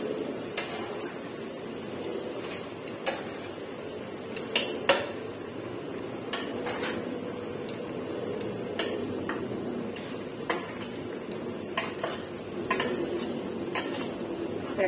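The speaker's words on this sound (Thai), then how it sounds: "พอน้ำเริ่มเดือดค่ะใส่เครื่องในไก่ลงไปเลยค่ะ" Chicken giblets go into a pot of Thai curry with bok choy, and a metal utensil scrapes and clinks against the pot in faint, irregular taps over a quiet kitchen background.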